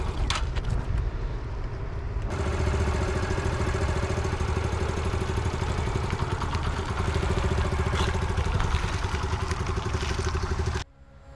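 A motorcycle engine idles and then runs steadily as the bike moves off using the clutch alone, with a low rumbling drone and some mechanical clatter, close by, for about ten seconds before cutting off.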